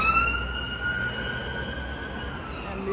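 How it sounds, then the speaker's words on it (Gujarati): An ambulance siren wails steadily as it passes nearby on a London street, its rising tones loud and clear over faint traffic. "એમ્બ્યુલન્સ ગઈ"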